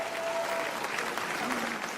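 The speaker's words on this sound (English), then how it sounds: "Round of applause." Comedy club audience applauding at a stand-up show, a steady wash of clapping throughout with faint voices mixed in.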